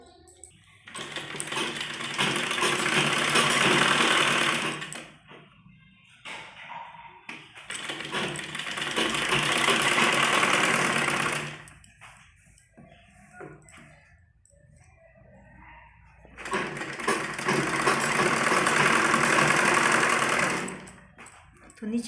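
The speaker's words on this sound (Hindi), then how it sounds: "सिलाई लगाएंगे चारों तरफ।" Sewing machine stitching satin ribbon onto the edges of a net baby frock, running in three long loud bursts of several seconds each, separated by quieter pauses with low handling noise.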